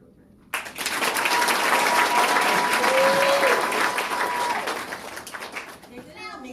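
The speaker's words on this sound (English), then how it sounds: "I just want to all to give another round of applause for these children" An audience at a children's recital bursts into loud, sustained applause that swells quickly and then tapers off, with a faint tone and some voices heard during the clapping.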